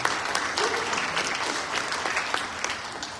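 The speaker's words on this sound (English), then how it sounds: "can we all give them a round of applause?" Audience applause at a Ramayan Yagya gathering in Toronto, Canada, steady dense clapping from a crowd indoors lasting the whole stretch, with some faint voices mixed in.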